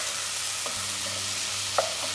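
Onion and basil sautéing in a pan, a steady fine sizzle heard close up with a faint scrape of stirring near the end, no voices.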